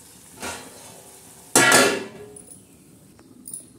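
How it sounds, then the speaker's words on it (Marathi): A lid set down on a pan of upma, giving a sharp metallic clatter partway through, with a faint clink just before and a few small taps afterward in a quiet kitchen. "तर आता ह्याच्यावर आपण असं झाकण ठेवणार आहोत."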